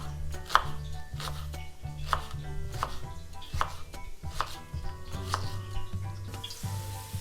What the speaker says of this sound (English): There's not much, you know, rocket science going on in cutting the onions.